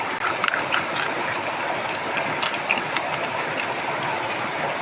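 Collected mountain snails being washed in water, producing a steady, dense splashing and trickling wash with small clicks of shells throughout, fairly close and continuous without any voices.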